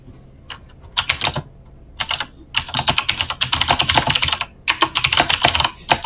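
Fast, loud computer keyboard typing close to the microphone, a dense run of clicking keystrokes in bursts with short gaps, with no talk.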